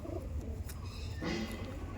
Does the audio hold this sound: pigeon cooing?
yes